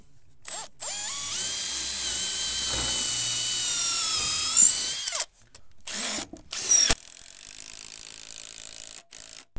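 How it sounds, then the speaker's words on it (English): A power drill bores bolt holes through a wooden post during a renovation, its motor whining steadily for several seconds, then dropping out, followed by short bursts of drilling and brief pauses. "now we can go through and drill our bolts all the way through"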